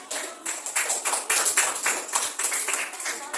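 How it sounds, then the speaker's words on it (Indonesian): Students in a classroom clap for a group, a lively burst of many close hand claps that pulse in an uneven rhythm and stay loud throughout. "Tepuk tangan buat kelompok."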